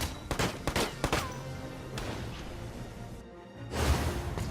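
A volley of gunfire rings out in the video game Valkyria Chronicles 4, with a quick cluster of sharp shots early on and a second louder burst near the end, set against steady background game sound.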